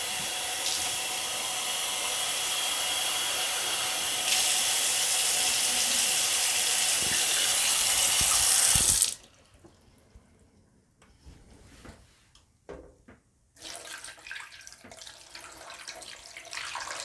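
Hot water from a tap gushes loudly into a container for about nine seconds, then stops; after a quiet pause with faint handling, the running water resumes.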